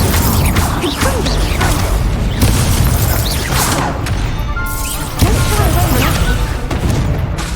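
Confringo blasting spell in the video game Hogwarts Legacy, heard as repeated loud booms and crashing impacts with mechanical clatter, dense and near, with voices shouting over the blasts.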